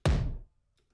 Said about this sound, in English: and then like a tom impact hit